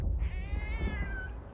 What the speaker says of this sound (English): I feel like that was a fucking cat.